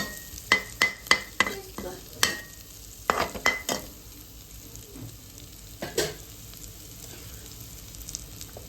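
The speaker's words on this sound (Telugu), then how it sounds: "ఇందులో వెల్లిపాయ, కారం ఇలా ఫ్రై అయితే చేస్తాను" Curry fries with garlic and chili powder, giving a soft steady sizzle broken by bursts of spoon clinks and scraping against the pan, then quieter frying toward the end.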